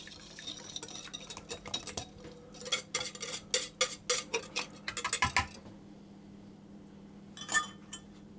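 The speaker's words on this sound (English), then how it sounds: "I'm simply going to stir that around until that's just about combined" A spoon clinks and scrapes around a bowl while a wet mixture is stirred into fruity muffin batter with soaked dried fruit, giving rapid irregular clattering taps that thicken midway, then trail off to a last few knocks.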